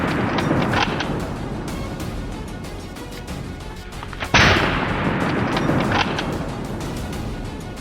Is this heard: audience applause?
no